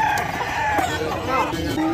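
A rooster crows loudly and close at the Bocaue pet market, its drawn-out harmonic call rising and falling over a steady wash of crowd and market noise.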